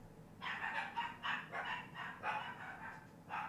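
Several dogs bark in quick overlapping bursts, fairly close, during a power outage in São Paulo, with a steady low rumble of background noise underneath and no one talking.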